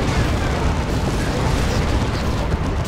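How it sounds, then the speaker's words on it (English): Demolisher cannons and other artillery pounding away in the strategy game Dawn of War II Retribution, a dense, continuous roar of booming explosions with a commentator talking over the battle. "he is just getting demolished by Demolisher cannons, as well as other cannons"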